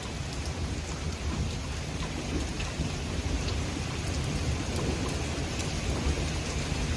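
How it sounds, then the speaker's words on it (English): Heavy rain pours steadily during a severe supercell thunderstorm over the Queen City, a dense constant hiss of drops with faint low rumbles beneath, no voices present. "The rain does look like it's actually lowering in intensity a little bit"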